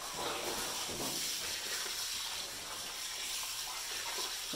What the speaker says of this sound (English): All right, water's going in.